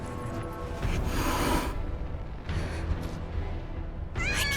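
Kittens meow in the video game Final Fantasy VII Rebirth, a few short high cries rising over soft background ambience, one near the start, others midway and a sharper burst at the end.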